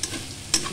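Lentil filling for sunflower pitha frying in a pan while being stirred, a soft steady sizzle broken by a brief louder scrape of the spoon near the end.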